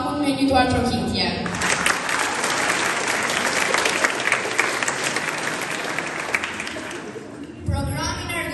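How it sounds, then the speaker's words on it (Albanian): An audience at a primary school event applauds for a guest, a sustained burst of clapping lasting several seconds, preceded and followed by a speaker's voice. "E falenderojmë zotëri Çallakun me një duartrokitje."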